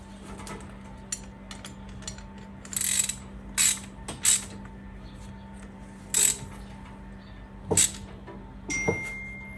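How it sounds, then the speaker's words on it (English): A half-inch socket ratchet snugs a bolt on a garage door during a spring replacement, giving several short bursts of ratcheting clicks spaced a second or so apart over a steady hum, close and moderately loud with no talk. "Half-inch socket, half-inch wrench on the other side. I'll snug it up."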